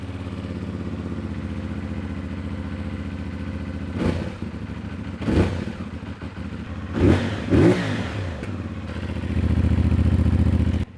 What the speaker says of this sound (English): I'm gonna do a crank up so that way it'll be a cold start